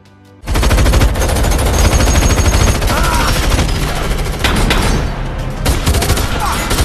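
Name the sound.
gunfire in film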